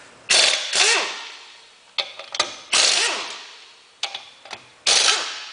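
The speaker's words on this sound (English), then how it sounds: "I've had this impact wrench a very long time" An air impact wrench fires in three short, loud bursts about two seconds apart, with a sharp hammering clatter and rising whine. Quieter clicks and ratcheting follow each burst.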